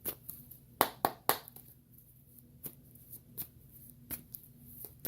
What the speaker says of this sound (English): I gave this a great shuffle.